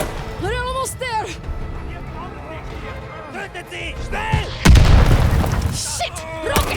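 A rocket blast in Call of Duty: Vanguard's wartime campaign, a heavy boom landing midway through loud shouted talk amid battle noise, close and rumbling.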